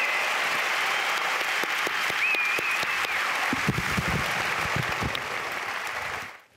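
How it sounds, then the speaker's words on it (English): An audience at a medical resuscitation talk gives a round of applause, a steady, fairly loud clapping from a crowd that holds evenly and fades out at the end, with some scattered nearer claps mixed in. "Can we have a round of applause for Nat for coming up here and protecting me"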